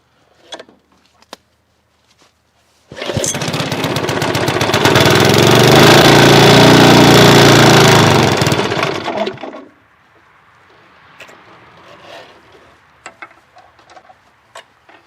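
A cold Briggs & Stratton small gasoline engine catches after a brief recoil pull and runs loudly with a steady rattling roar for several seconds, then cuts off, leaving quiet background noise.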